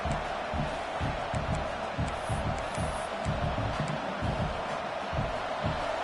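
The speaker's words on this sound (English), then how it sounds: "the crowd coming to life here, trying to help this defense down in the red zone" A crowd roars in a college football video game as the home side defends in the red zone late in the game, a dense, continuous stadium din of cheering with rhythmic pulsing, no speech over it.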